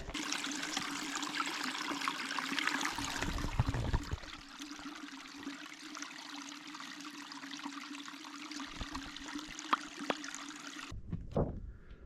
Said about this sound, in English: Running water, finally.